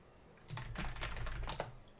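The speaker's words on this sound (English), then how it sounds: "I just keep typing this wrong, eh?" Fingers typing on a computer keyboard: a quick run of clicky keystrokes starting after a quiet moment, close and fairly soft, with no speech.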